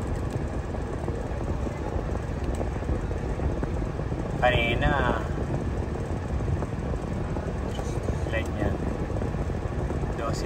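Air compressor pump on a Toyota Revo running with a steady mechanical drone and whirring hum, close and continuous, while someone speaks briefly over it midway.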